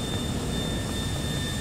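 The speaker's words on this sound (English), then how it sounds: "Oh shit, that is one big ass plane." A large jet airliner in the video game GTA IV gives a steady, loud whooshing engine roar with a constant high whine, unbroken and close, without any talk.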